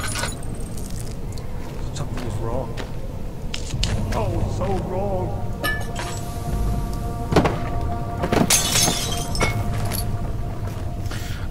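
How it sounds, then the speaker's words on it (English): Glass pane shattering in Amnesia: The Dark Descent, a bright crash burst near eight to nine seconds amid scattered clinks and thuds over a steady low ambient drone, with occasional speech. "I'm making a loud glass pane noise"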